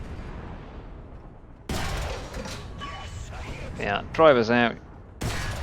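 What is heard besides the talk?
tank cannon firing in War Thunder video game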